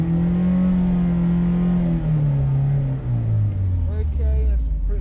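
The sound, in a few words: car exhaust noise during track day noise test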